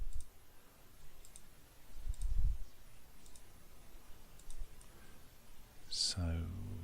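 A computer mouse clicks a few times while edges are selected around the six sides of a 3D model's lower half, with sparse, faint clicks spread across a quiet background and one brighter burst near the end.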